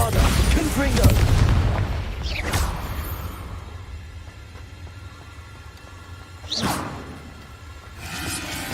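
Spell blasts from Bombarda and Confringo in Hogwarts Legacy, set in a cave: a heavy booming impact opens, followed by a few sharp whooshing bursts spaced seconds apart over low rumbling ambience.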